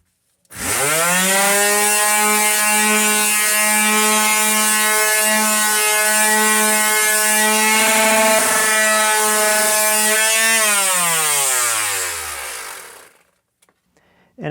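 A power sander works a wooden guitar soundboard plate. Its motor spins up to a loud, steady whine that holds for about twelve seconds, then winds down and stops.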